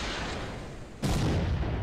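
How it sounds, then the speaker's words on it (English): A rocket launcher fires in the video game Stalker Call of Pripyat, one sudden loud blast about midway that lifts over a steady rumbling background and holds as a broad roar to the end. "I've got a rocket launcher. About there, fire!"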